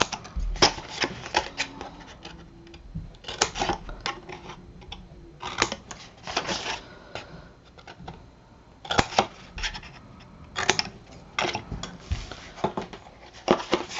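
Scissors snip through chipboard squares along a score line in a series of close, rapid crunchy cuts that come in bursts separated by short pauses.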